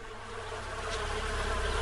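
Honeybees buzz steadily in a busy swarm around a hive entrance, a dense continuous hum that swells slightly louder toward the end, with no voices.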